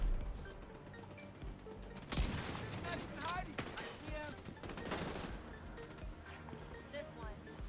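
Rapid bursts of gunfire from a video game shooter, The Division 2, aimed at a turret, loud and dense with sharp impacts and crashes layered over busy game effects and a speaking voice.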